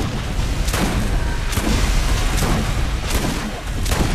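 Grenades go off one after another in the Borderlands shooter during a fight against spider enemies: about five heavy blasts at a steady pace, each a sharp boom over constant loud game noise.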